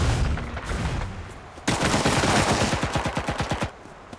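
Automatic gunfire in the shooter game Cuisine Royale, loud and close: a burst, a brief pause, then a long rapid run of evenly spaced shots that tapers off at the end.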